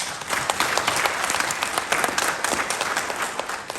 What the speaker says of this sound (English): A round of applause for him and his great leadership.